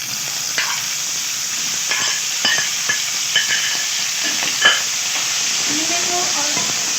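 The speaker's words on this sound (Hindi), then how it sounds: "तो लहसुन अदरक थोड़ा सा फ्राई हो गया तो अब मैं इसे कीमा डालूंगी" Minced meat hits a hot pan of frying garlic and ginger, giving a steady loud sizzle broken by scattered clinks and scrapes of a spoon stirring, with no talk.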